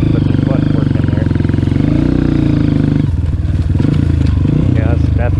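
A Honda CRF230F dirt bike engine climbs a hill, loud and close, its revs rising and dropping as gears shift with clutch work, with a rider talking over the steady engine drone.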